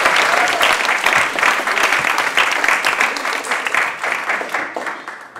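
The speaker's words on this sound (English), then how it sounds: "Come on, give me a round of applause." A large audience claps together in sustained, energetic applause, a thick continuous patter that stays loud throughout with only slight easing toward the end.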